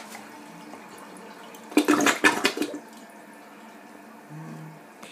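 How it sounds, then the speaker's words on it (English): A dual flush toilet on its half flush gives one short burst of rushing water lasting about a second, then a quiet trickle and light refill sounds. "Nice half flush."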